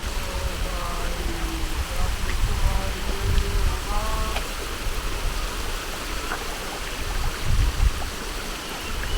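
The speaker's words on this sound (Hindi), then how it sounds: "आइस जो है मेल्ट होने के बाद जो है पानी बनती है, फिर जाके नीचे नदी में मिलती है।" A glacial meltwater stream rushes downhill toward the river in the valley on the Hemkund Sahib trek above Ghangaria, a steady broadband roar filling the whole clip while people talk faintly over it.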